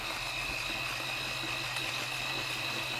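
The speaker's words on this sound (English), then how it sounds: "So we're going to go ahead and grind it." A portable electric coffee grinder grinds beans with the lid on, giving a steady, continuous whirring buzz that holds evenly for the whole stretch with no talking over it.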